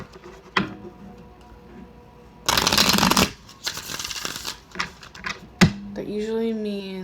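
Two quick bursts of fast tarot card shuffling crackle loudly up close, separated by scattered clicks, followed by a brief voice humming at the end.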